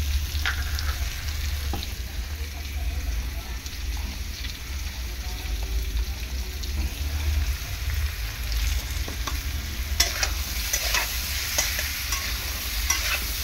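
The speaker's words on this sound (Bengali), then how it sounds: "তো খুব বেশি ভাজবো না, হালকা করে একটু ভেজে নেব চাল কুমড়োটাকে।" Diced ash gourd, lightly salted, fries in a pan with a continuous low sizzle and soft scraping stirs throughout, a few sharper clicks toward the end, and no voices.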